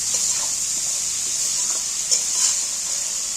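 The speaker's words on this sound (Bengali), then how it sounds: "মশলাটা ভাজা হয়ে গেছে বা কষানো হয়ে গেছে তেল ছেড়ে দিয়েছে দেখছো" Spice paste sizzles and is stirred in hot oil for a hilsa fish dish, a steady close frying hiss with soft scraping stirs running throughout and no voices.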